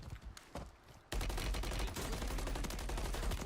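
Rapid automatic gunfire in Call of Duty MW3, starting with a few scattered shots and then breaking into a loud, dense, continuous burst that lasts to the end.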